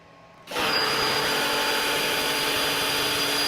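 An EGO 56V battery pressure washer runs in turbo mode with a 25-degree tip, kicking in abruptly from a low hum to a loud, steady hissing roar of motor and spray that holds constant without a break.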